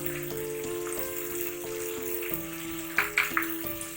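Black chana masala mixture fries in a pan with a steady, fairly quiet sizzle, a few louder crackles near the end, and background music playing throughout.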